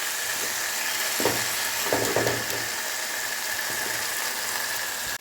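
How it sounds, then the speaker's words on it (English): Brinjals stirred and frying with spices in a pan, a steady broadband sizzle throughout with a few louder clattering stirs near the start, close and continuous. "Now I'm going to add the brinjals in this, and then give it a stir"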